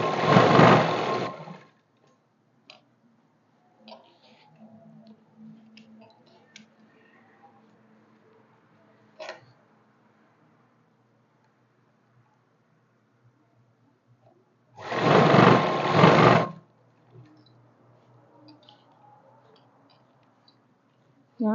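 A sewing machine stitches elastic onto ladies' trouser fabric in two loud bursts, one at the start and one around the fifteen-second mark. Quiet handling clicks and rustles of the fabric fill the long gap between them.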